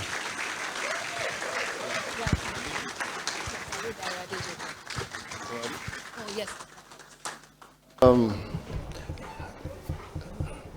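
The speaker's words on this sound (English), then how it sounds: "Please keep the applause going." An audience claps for an incoming speaker at a Nigerian directors' institute induction ceremony, dense applause that fades and thins out, then a sudden louder burst of sound near the end as a voice starts.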